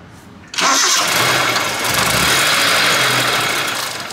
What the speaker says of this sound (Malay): Dan masa enjin hidup